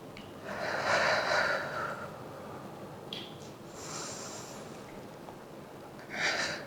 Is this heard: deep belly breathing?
yes